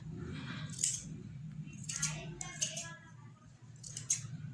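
Scissors snip thread or fabric while a Rakhi is made by hand, giving a few short crisp cuts in separate bursts over a soft low background hum.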